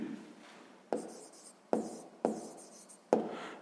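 Numbers handwritten during a sixth-grade math exercise: a soft scratchy rub of writing, then four sharp, close pen strokes landing at steady intervals, each quickly fading back to a quiet hiss.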